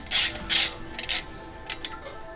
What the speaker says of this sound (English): I'm just going to use a 5mm Allen here, and I'm just going to run the thread in until it bottoms out